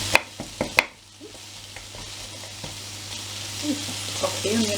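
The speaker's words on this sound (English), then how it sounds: "this is the time to put them in with the other veggies, and we just want to fry that off now" Vegetables, including onion, frying in a pan for a BBQ chicken pasta bake, a steady close sizzle with a few sharp utensil knocks at the start and light stirring scrapes later.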